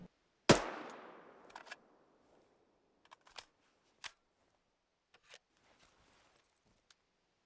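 A rifle fired from a bipod in Arma 3 gives one loud, sharp shot with a fading tail, followed by a scattering of faint mechanical clicks and ticks in near silence.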